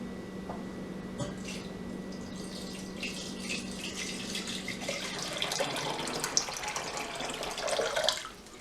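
Cold tap water runs steadily into a measuring cup, a continuous splashing stream that grows louder and brighter toward the end as the cup fills, with no talking.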